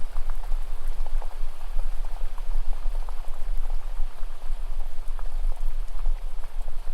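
Steady rain falls on a surface in a dense, even patter of drops, loud and close, continuing without a break and with no voices.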